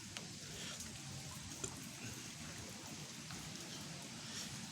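Steady rain falls outdoors at a rocky petroglyph site during a group bike ride, a dense even hiss with scattered drop ticks, fairly close and continuous with no voices.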